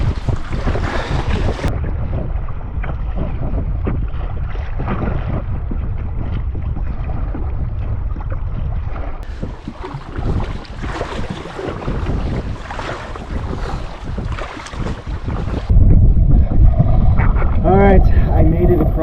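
A canoe crossing a windy lake in Algonquin backcountry during early-spring ice-out, strong wind buffeting the microphone over water sloshing and paddle strokes, with a voice speaking during part of it.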